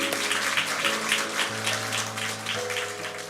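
A church congregation applauds together at a Sunday worship service, steady clapping for a few seconds over a sustained organ or keyboard chord.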